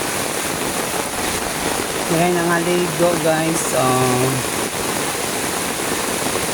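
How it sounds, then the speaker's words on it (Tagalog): Heavy rain pours down on a rural village road, a constant loud wash of water. A brief musical tone rises above it midway, and a person speaks over the downpour. "Hindi na makita ang kalsada tungod sa kakusog sa ulan."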